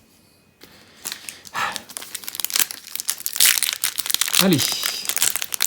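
The foil wrapper of a March of the Machine booster pack crinkles and tears as it is opened, loud and close, in irregular bursts; a voice speaks briefly.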